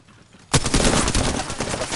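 A sudden burst of rapid gunfire in the Apex Legends video game, starting abruptly after a quiet moment and continuing loud and steady to the end.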